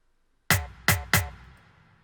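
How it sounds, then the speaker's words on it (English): Three sharp rim shots layered with percussion in an Afro tribal house beat made in FL Studio, struck in a quick uneven burst after a moment of silence, each hit decaying briefly. "I included some percussions on top of the rim shot"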